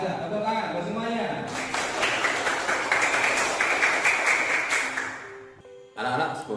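Children in a classroom clap together for a few seconds in a dense, lively burst, after talk from the teacher and before speech resumes.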